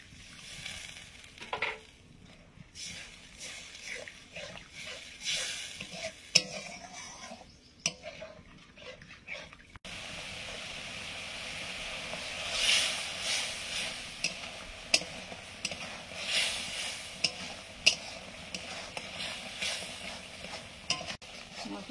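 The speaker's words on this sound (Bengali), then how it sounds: "এবার একটু দিয়ে দেবো মশলাটা ভালো করে একটু কষে নেওয়ার জন্য।" Spice paste is stir-fried in a pan for a Bengali mixed greens chorchori, giving a close sizzle with repeated scraping and clinks of a spatula against metal, briefly quieter before a louder, steadier frying hiss takes over.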